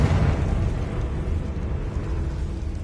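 A Confringo blasting spell detonates in Hogwarts Legacy, a loud booming explosion with a dense low rumble that lingers steadily for about three seconds without any voices.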